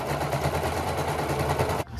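A sewing machine stitches a quilted jacket seam in a steady, close, rapid mechanical rhythm that runs unbroken for about two seconds, then stops abruptly.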